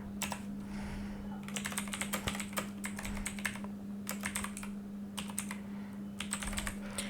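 Rapid bursts of computer keyboard typing, clicky keystrokes in short clusters with brief pauses, close-up over a steady low electrical hum.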